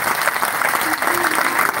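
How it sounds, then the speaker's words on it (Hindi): Applause from a crowd welcoming guests onto the stage at a local public event in Sangaria, a dense burst of clapping throughout the short stretch. "जोरदार तालियों से स्वागत है"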